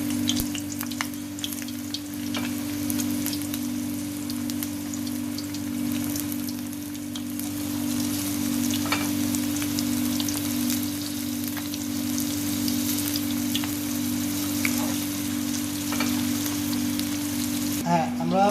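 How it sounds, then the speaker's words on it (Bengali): Shrimp pieces for tempura deep frying in hot oil, one at a time, giving a steady close bubbling sizzle that carries throughout with small pops and low background hum. "এখন এই চিংড়ি মাছটাকে আমি এটার ভিতরে দেব, দিয়ে একটা একটা করে ভাজবো।"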